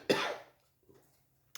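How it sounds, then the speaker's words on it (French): One sharp, close cough, followed by a faint breath and a short quiet stretch. "Je m'excuse, je tousse toujours."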